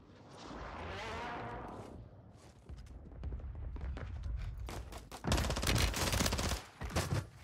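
Call of Duty gunfire from an MP7 submachine gun, with sustained rapid bursts that grow louder and denser in the second half, up close over busy battlefield noise.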